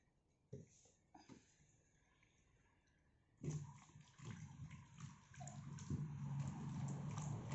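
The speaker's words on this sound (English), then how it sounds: "I found there's a lot of dirt that has come out, so I will wash it in little more vinegar." Dry fish is rinsed in vinegar for a Goan pickle, with faint early clinks and sloshes giving way to a louder, continuous run of swishing liquid and gurgling water.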